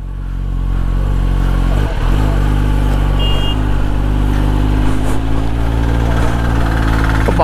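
A Kawasaki ZX-10R motorcycle engine runs loud and close with a steady, rumbling drone while it pushes a broken-down scooter, holding a fairly constant pitch with no voices.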